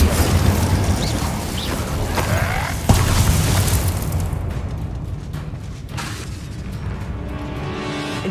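Repeated spell blasts from combat in Hogwarts Legacy, heavy booming impacts and crackling bursts, loud at first with a sharp hit near the middle, then fading into scattered pops and rumbles.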